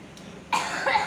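One harsh, close cough bursts out after a brief quiet moment, followed by a second rasping push of breath.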